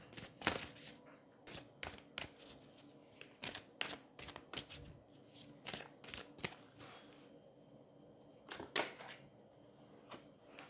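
A deck of angel love oracle cards being shuffled, with repeated crisp riffling bursts in an irregular rhythm, close and fairly faint, with no talking.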